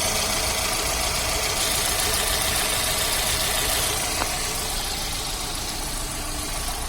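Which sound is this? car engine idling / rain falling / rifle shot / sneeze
car engine idling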